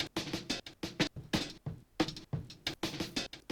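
Synth sequence from a downtempo production, soloed and dry without any microshift widening, playing a rhythmic run of short, plucky notes in a steady pattern, close and upfront.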